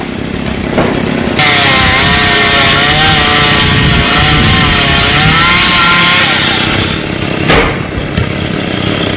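A chainsaw cuts into a golden oak tree, its engine revving up to a loud, sustained, wavering whine under load, then easing back to idle near the end.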